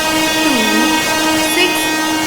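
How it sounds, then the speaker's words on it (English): Train horn sounding as a train pulls into a station platform in an Indian railway video game, a loud sustained tone that bends downward briefly, then holds steady over a constant rail rumble. "AC double-decker superfast express is arriving at platform number 4"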